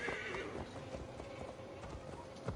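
Horse hooves clip-clopping in the video game Assassin's Creed Valhalla while riding through a Gloucestershire forest, steady rhythmic steps under ambient game sound with a faint whinny.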